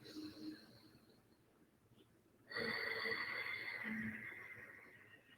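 Ujjayi pranayama breath drawn in through a closed mouth with the tongue at the roof of the mouth, a soft ocean-like hiss that swells to a steady close rush after a quieter start.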